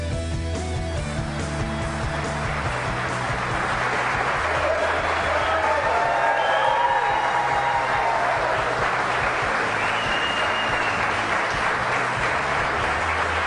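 An audience claps steadily throughout, a dense even patter of many hands, with a few faint voices and cheers mixed in.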